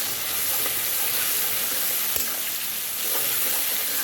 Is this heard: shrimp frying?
yes